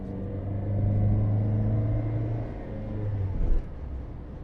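A Mitsubishi Magna Mk1 engine pulls on the road as the car accelerates, giving a low steady rumble. The rumble swells, eases slightly, then surges again near the end, with no talk over it.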